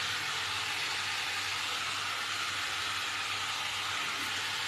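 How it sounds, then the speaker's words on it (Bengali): Food fries in a pan with salt and turmeric while being stirred, producing a constant, even broadband hiss with no distinct strokes, close and steady, with no talk. "তো আমি একটু নাড়াচাড়া করে নিলাম"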